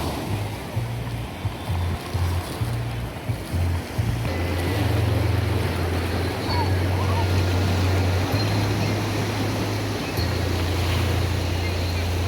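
Sea waves at a beach in Spain wash and rumble steadily under strong wind buffeting the microphone, with a low engine-like drone throughout.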